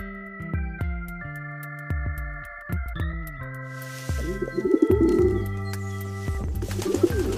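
A pigeon gives a few soft, low cooing calls, set against gentle background music that plays throughout.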